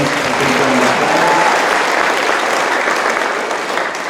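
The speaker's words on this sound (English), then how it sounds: "I'll give Miss Milton and her friends a big round of applause." Audience applause after a round called for Miss Milton and her friends at a school concert, a dense, steady wash of many hands clapping close and loud, tapering slightly near the end.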